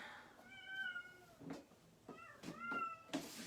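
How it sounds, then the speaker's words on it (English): A cat meows at a door, several drawn-out tonal cries in a row with brief gaps between them, fairly clear against a quiet room. "And we hear the cat at the door."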